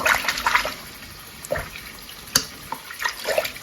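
Hot tap water runs while a pre-stamped cross stitch kit is washed in a sink, a steady faint splashing with a few sharper clinks and drips breaking through at irregular moments.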